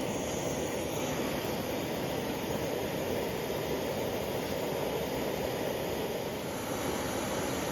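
An Optimus 324 white gas camping stove hisses steadily and evenly, a constant broadband rushing sound close by with no other noises.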